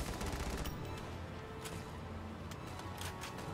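Gunfire in the video game Valkyria Chronicles 4, rapid dense bursts of shots forming a continuous volley, with a few sharper cracks standing out as the firing carries on.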